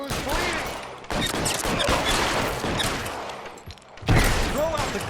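Rapid gunfire crackles through a fusillade in the video game L.A. Noire during an arson case shootout, dense repeated shots with shouted voices mixed in.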